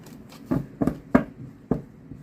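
Rider-Waite tarot cards are shuffled in four short, papery riffling bursts at irregular intervals, close and moderately loud, with no talking over them.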